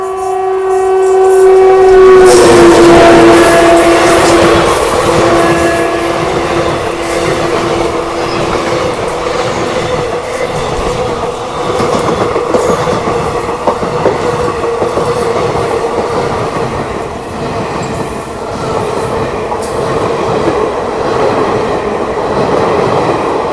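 The Teesta Torsa Express runs through Kishanganj station in Bihar without stopping. Its horn blares at the start, then the long, loud rumble and rattle of the passing coaches carries on without pause.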